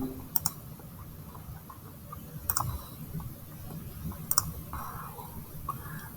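A few sparse keyboard clicks come while entering an expression into the Desmos calculator, quiet isolated taps spread over several seconds against a low background hiss, with no talking.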